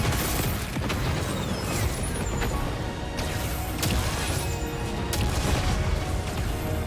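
Explosions in the video game Xenoblade Chronicles X, with several sharp booms and blasts punctuating a dense, continuous roar of combat noise, loud and close throughout.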